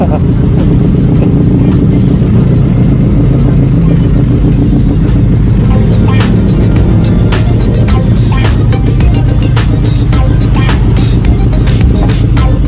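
A matte black Yamaha R3 motorcycle runs steadily and loudly up close, its engine note constant throughout with sharp clicks and clatter scattered over the second half, no talk heard.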